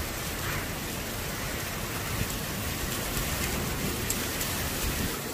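Heavy rain lashes sideways in derecho winds, a dense, steady roar of drops and gusting wind filling the whole stretch with no break and no voices.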